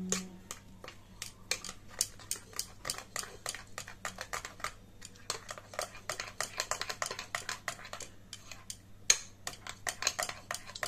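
Rapid, uneven clinks of a utensil against a bowl as yogurt is whisked with milk powder for a vegetarian doi potol dish, a steady stream of close, sharp taps with no talking.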